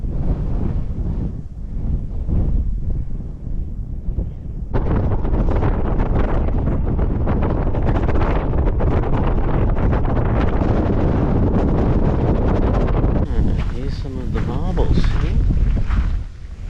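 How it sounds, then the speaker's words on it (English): Heavy wind buffets the microphone at a lookout near Alice Springs, Central Australia, in a loud, continuous roar, with gusts growing stronger partway through and a brief lull near the end. "It's windy too."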